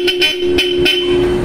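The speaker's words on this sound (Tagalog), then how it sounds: "Bosch Europa horns sa Nissan Navara." Bosch Europa car horns fitted to a Nissan Terra blast in four loud, close honks, a steady two-tone blare with short gaps, the last held longer.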